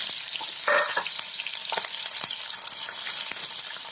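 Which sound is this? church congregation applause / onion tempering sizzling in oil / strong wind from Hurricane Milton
onion tempering sizzling in oil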